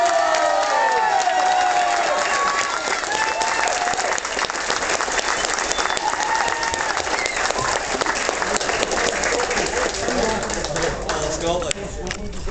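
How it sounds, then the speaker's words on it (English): Sustained loud applause and some cheering from a crowd honouring a Scottish team captain, dense clapping throughout with voices talking over it. "An extra round of applause for the Scottish team captain who brought it home for a belt"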